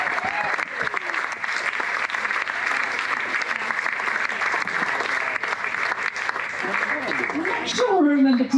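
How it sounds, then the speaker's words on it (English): A live podcast audience at an ultra trail running event applauds their coach with sustained, steady clapping. A voice cuts in briefly near the end. "Round of applause, please, for our kick-ass coach"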